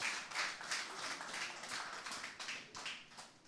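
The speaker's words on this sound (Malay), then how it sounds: "Beri tepukan kepada frontliner" An audience applauding frontliners at an MOU signing event: a light, fairly quiet patter of claps from a small crowd, pulsing unevenly over a few seconds.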